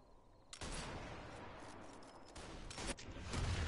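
Rifle gunfire in the Sniper Elite 4 co-op campaign at the Regilino Viaduct, a sustained loud burst of shots and rumbling battle noise with a heavier boom near the end.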